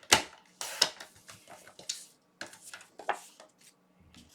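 Paper strip being cut for handmade Christmas cards, likely on a paper trimmer: a series of short, crisp slicing and clicking sounds close by, irregularly spaced with quiet gaps, no talk.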